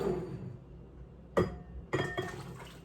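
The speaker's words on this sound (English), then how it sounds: "I'm gonna pour it on into a nice big bowl." Cooked beef pancreas and broth tipped from a pot into a big bowl, two sharp clinks of cookware against the bowl followed by soft sloshing, quiet overall.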